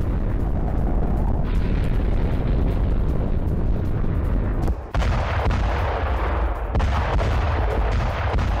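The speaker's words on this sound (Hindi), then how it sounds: "Fab 500 बम से यूक्रेन पर हमला किया गया" FAB-500 bomb strikes in Ukraine rendered as sustained heavy rumbling booms and blast roar, loud and dense, with a sharp break and renewed explosive crackle midway, no voices.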